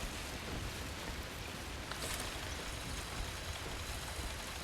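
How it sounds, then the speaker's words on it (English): Steady rain in The Last Caretaker, a soft, even hiss of falling drops with no breaks, faint and distant throughout. "And now it's raining."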